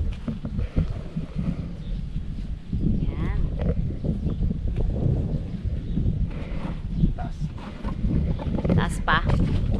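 Cool wind blowing outdoors in the provincial countryside, a continuous rumbling buffet across the microphone with people talking over it throughout.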